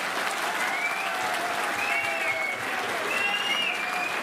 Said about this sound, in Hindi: ताली बजा दे लो।